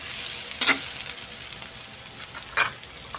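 Onions sizzle steadily in a pan, oil crackling at a low, even level, with two brief louder scraping stirs partway through and no voices.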